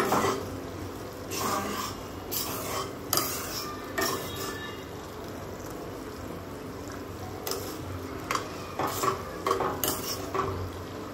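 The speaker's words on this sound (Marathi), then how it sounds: "आणि नीट हलवून घ्यायचं" A home-cooked dish is stirred in a pan with repeated utensil scrapes and knocks against a soft, continuous sizzle, the strokes falling at an uneven rhythm.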